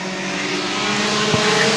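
Pure Stock race cars roar around a Friday night dirt oval during a feature race, a loud continuous engine drone that builds slightly as the pack runs by.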